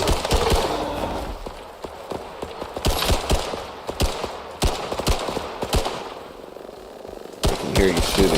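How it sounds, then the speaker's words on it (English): Bursts of video game gunfire from a teammate, sharp repeated shots in irregular clusters at middle distance, with continuous game ambience and effects between volleys. "I can hear you shooting."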